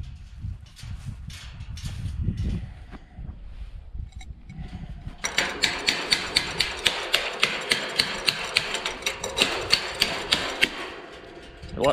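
Hammer strikes ring out while a gate is hung on a sheep pen, first sparse and muffled, then a steady run of sharp, evenly spaced blows close by.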